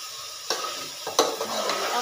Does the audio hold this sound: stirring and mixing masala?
yes